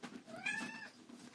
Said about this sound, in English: That's just my cat meowing in the background.